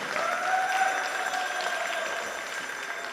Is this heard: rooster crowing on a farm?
no